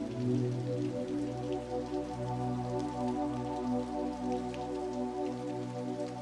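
Steady slow rain patters against a window pane, dense soft drops over a constant wash, close and calm with no voices.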